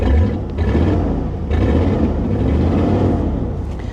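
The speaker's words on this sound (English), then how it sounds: "I hear an exhaust leak." A 1983 Mercury Cougar engine idling with an exhaust leak, a loud, steady low rumble with slight pulsing throughout, heard alone without talk.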